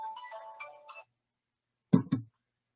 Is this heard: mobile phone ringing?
yes